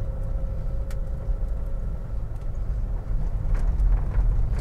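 A 1969 Opel Rekord C 1900 with a Solex carburetor drives along, its engine and road noise a steady low rumble heard from inside the car, with no voices.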